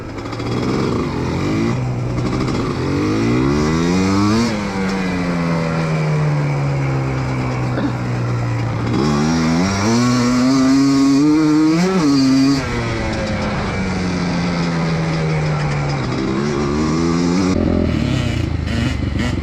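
A quad bike or motorcycle engine revs loudly and close while riding, its pitch sweeping up and down through repeated throttle surges and gear changes, with a steady roar throughout and no talk.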